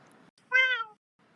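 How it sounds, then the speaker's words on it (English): A single cat meow, loud and close, drawn out for about half a second between stretches of faint room noise. "It meows at you."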